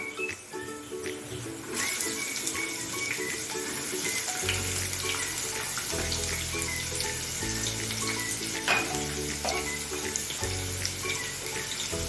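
Chopped onion frying with garlic in a pan for a Malvani chicken sukka, a steady loud sizzle running continuously throughout, close by with no talk.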